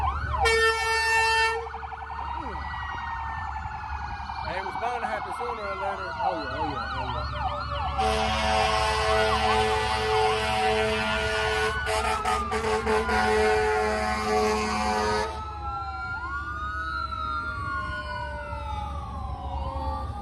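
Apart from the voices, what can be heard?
siren passing by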